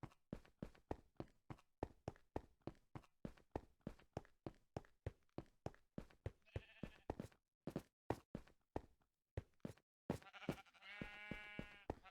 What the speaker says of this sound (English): Back here, we have my automated sheep farm.